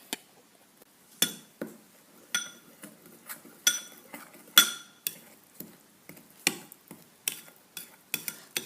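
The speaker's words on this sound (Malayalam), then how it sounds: "ഇനി നന്നായിട്ടൊന്ന് ഇളക്കി കൊടുക്കുക" A spoon stirring crushed Bourbon biscuits with milk in a bowl, giving a steady series of sharp clinks and scrapes against the dish, each tap close and distinct, repeated irregularly about every half second.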